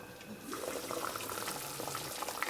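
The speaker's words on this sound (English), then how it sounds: "Let it continue to boil and cook and stew." Cabbage soup bubbling in a pot on the stove, a continuous watery churn with small pops and splashes at moderate level, heard alone without talk.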